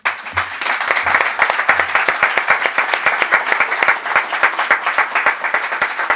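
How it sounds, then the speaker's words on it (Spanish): Audience applause after a young poets' reading: loud, dense clapping from many hands, sustained with an even rhythm throughout, with no talk over it. "Que continúe el aplauso,"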